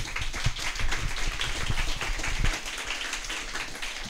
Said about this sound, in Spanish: Les pido que le recibamos con un aplauso